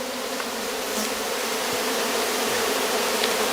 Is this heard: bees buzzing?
yes